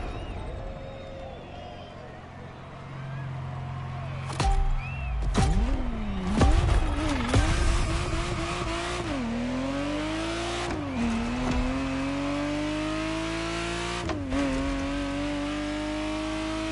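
Ferrari Testarossa engine from the video game The Crew Motorfest, a loud close car engine rising and falling through repeated gear shifts with sharp revving surges, heard on its own with no talk.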